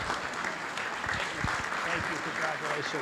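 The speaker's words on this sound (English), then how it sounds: "Let's give him a big round of applause." An audience at a community heroes luncheon breaks into sustained applause, a dense continuous clapping that carries on while voices speak and call out beneath and through it.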